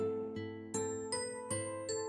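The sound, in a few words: doorbell ringing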